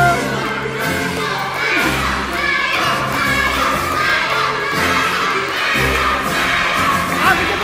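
Children cheering and shouting at outdoor 17 August Independence Day games, a loud sustained crowd of young voices rising and falling in steady bursts.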